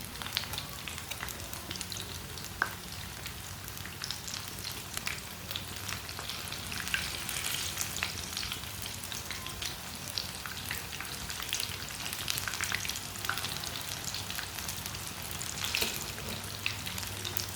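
Green chili pakoras fry in hot oil with a steady, even sizzle and crackle that carries on throughout, moderately close, with no talking.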